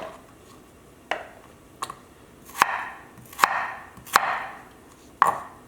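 A knife cuts potatoes into small pieces on a cutting board, giving seven or so crisp, separate chops at an uneven pace, close and fairly quiet in a hushed room with no talking.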